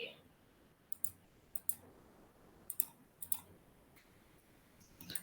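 Sharp, dry clicks of a computer mouse while working in ERP accounting software, arriving singly and in quick pairs at irregular intervals, close and fairly quiet against a faint room hiss.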